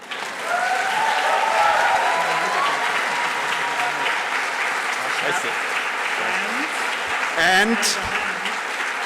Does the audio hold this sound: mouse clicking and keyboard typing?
no